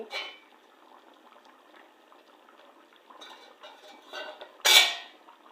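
Fish and vegetables cook in a wok, giving a faint, quiet bubbling simmer with scattered soft clinks, ending in a sharp metallic knock near the end.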